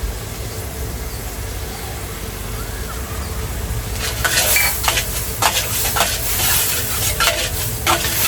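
Cleaned quail gizzards fry in a pan with a steady sizzle. Partway through, a spatula starts scraping and clattering against the pan in repeated bursts of stirring.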